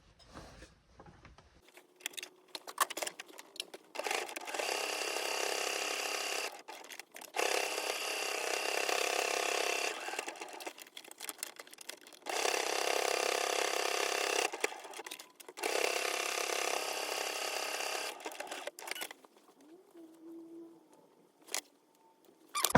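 A sewing machine top stitches a sewn money and gift card wallet in several close, loud bursts of rapid rattling stitching, each lasting a few seconds, separated by pauses with small handling clicks and no voices.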